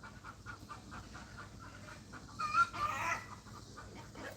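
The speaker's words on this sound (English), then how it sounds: "We got a bunch of little chickens that we got to find some homes for." Young chickens, including an olive egger hen, cluck and murmur softly in the background, with one brief louder squawk partway through; no talking.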